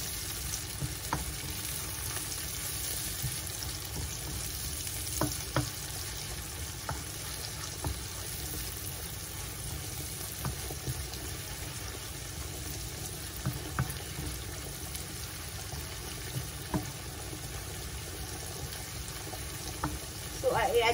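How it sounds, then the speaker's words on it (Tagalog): Garlic and onion sizzling in a pan while cooking seafood pasta, a steady soft frying hiss with occasional stirring clicks, faint and continuous with no talking. "First ang bawang, tapos luto ng bawang, sibuyas."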